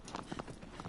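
Hoofbeats of the horse in Shadow of the Colossus, a short run of soft clip-clop steps approaching quickly and ending in a louder burst.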